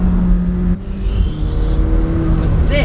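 A McLaren 720S twin-turbo V8 revs hard under acceleration from inside the cabin, a loud continuous engine drone climbing through the rev range with a brief dip as a gear changes.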